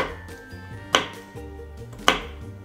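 A knife chops whole almonds on a board in two sharp, distinct cuts about a second apart, close and clear over soft background music.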